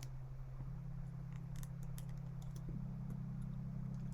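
Laptop keyboard keys are pressed in a quiet room, giving soft, scattered clicks over a steady low electrical hum.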